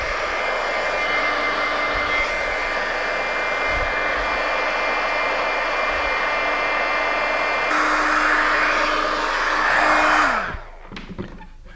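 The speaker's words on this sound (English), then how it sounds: "Let's try the heat gun." Heat gun blowing a steady, loud airy roar as it shrinks heat-shrink tubing over wire for a USB power install, holding constant for about ten seconds before switching off and spinning down.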